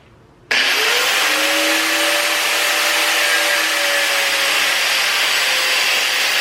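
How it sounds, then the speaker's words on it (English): Abrasive cutoff wheel slicing through an AN hose: a sudden, loud, steady high-pitched grinding whine that starts abruptly and holds for several seconds at close range. "to actually cut it, it said to use a cutoff wheel"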